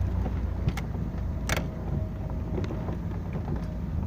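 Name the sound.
1949 Daimler DB18 drophead coupe driving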